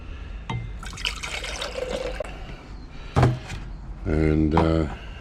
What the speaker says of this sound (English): So I'm going to rejuvenate it with some more hydrochloric acid